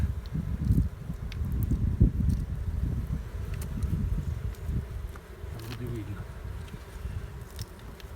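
Polesian honeybees swarm around an open frame beehive, producing a dense, continuous buzzing close by that swells and fades as the insects move, with faint rustling in the background.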